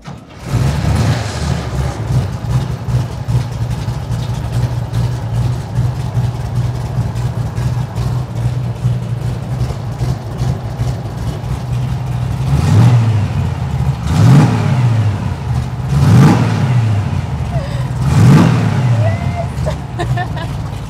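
Pro street car engine cranks and catches, then settles into a loud, lumpy idle before four sharp revs blip up and fall back in the final stretch.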